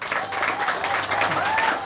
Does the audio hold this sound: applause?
yes